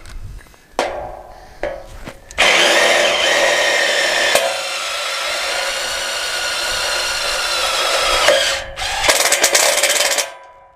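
A power drill drives Tech screws into a steel house frame, a few short bursts giving way to a long, steady, loud whir of several seconds, then a brief pause and another burst.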